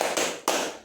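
Two sharp group hand claps from students in a classroom, close and loud, each a quick burst with a short gap between them.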